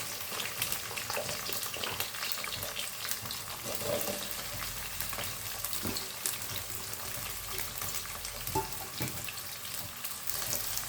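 Onion and garlic fry in hot oil with dried loitta fish, a steady hissing sizzle with faint crackles and occasional stirring clinks, close and continuous with no voices.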